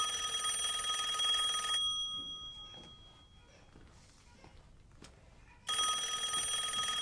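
A telephone bell rings loudly in two bursts with a quiet gap between them, set in a French drama film.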